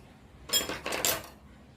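Scissors snipping green chillies into small pieces in a bowl for pickle, two or three quick close metallic snips in a short burst, then quiet.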